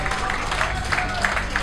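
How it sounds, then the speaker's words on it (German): Audience applause at a brewery venue during an arm-wrestling match event, a steady dense patter of many hands filling the room without letting up. "bitte nochmal einen Applaus für die Wahl und die Leute hier von Astra"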